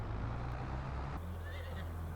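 Horses neigh in the video game Farming Simulator 22, a whinny rising over a low steady background hum on a farm near a pasture, fairly quiet throughout.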